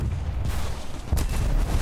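Gunfire in War Thunder during a match in a T26E5 Jumbo Pershing tank, heard as a low rumbling barrage with a sharper report partway through, steady and moderately loud.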